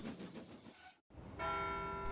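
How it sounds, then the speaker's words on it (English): A toy-style steam engine pulls into a station in a Trainz railway simulation, with a rumbling approach, a brief gap, then a steady sustained whistle-like tone holding to the end. "Thomas returned to Knapford with his last train of the day"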